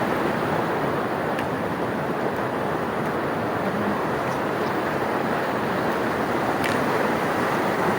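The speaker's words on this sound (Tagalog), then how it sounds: "Kaso malakas ang alon." A strong river current with rough waves rushes in a loud, unbroken wash that holds steady throughout, with no voices.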